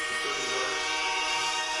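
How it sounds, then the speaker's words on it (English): A train horn sound effect blares during a live fan reaction stream for a Buffalo Bills versus Kansas City Chiefs game: one loud, sustained, brassy chord held steady without a break, with no talking over it. "We got the train horn."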